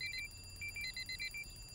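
An alarm clock in a Honkai animated short rings with rapid, high electronic beeps in short bursts, faint and slightly distant, without any talking.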